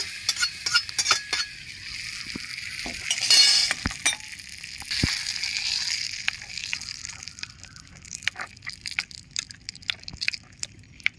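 Tempering is mixed into coconut chutney, with a spoon clinking and scraping against a bowl in irregular taps over a light sizzle that fades toward the end, close by.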